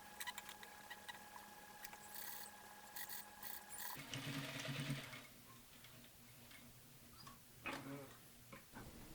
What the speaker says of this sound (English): Sew the sleeve to the body with 5/8 inch seam allowance.